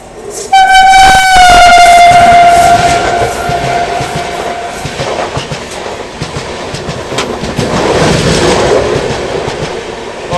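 The Awadh Assam Express overtakes on the adjacent track, opening with a loud, sustained horn blast close by, then a heavy rushing rumble and rhythmic wheel clatter as the carriages pass.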